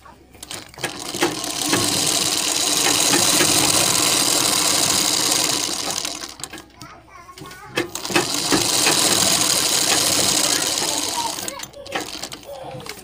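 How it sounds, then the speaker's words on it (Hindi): A sewing machine stitching along the base of the buckram in a collar neckline, running in two long steady bursts of rapid mechanical whirring with a brief pause between them. "बुकरम की नीचे नीचे जड़ में सिलाई लगाना है"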